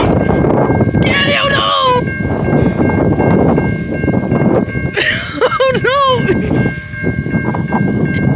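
A lone train engine rumbles past at Cousino Road, a loud continuous roar with clattering, while excited voices shout and talk over it.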